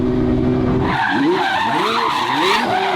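Twin turbo Ferrari F12 drifting, a loud engine note giving way to long wavering tire squeals and skidding, close and continuous.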